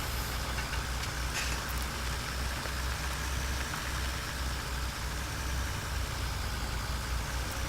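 A tractor engine idles in Farming Simulator 2017 on the Autumn Oaks farm map, a steady, continuous mid-to-low rumble with no breaks that holds at an even, moderate level throughout.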